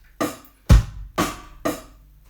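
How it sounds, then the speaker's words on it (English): A drum kit plays a short pattern of hi-hat alone, hi-hat with bass drum, hi-hat with snare, then hi-hat again: four evenly spaced close hits, the second one heaviest. "Hi-hat on its own, hat and bass, hat and snare, hi-hat."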